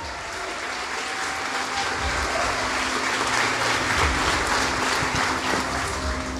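A church congregation applauding loudly, a dense, steady wash of many hands clapping that holds from start to end.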